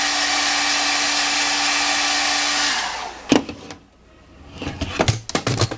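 A hair dryer or heat gun blows hot air in a steady, loud, humming whoosh for almost three seconds, then cuts off, followed by handling clatter and a few knocks while wrapping motorcycle parts.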